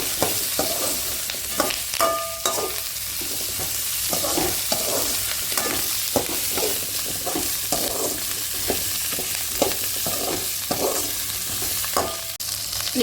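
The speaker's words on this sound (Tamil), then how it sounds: "மிளகாய் கருவேப்பிலை எல்லாம் போட்டுக்கலாம். இது எல்லாம் நல்லா வதங்கிட்டு" Chillies and curry leaves sautéing in hot oil in a pan for a chutney, a constant close sizzle with spoon stirs and scrapes recurring every second or so, no voices.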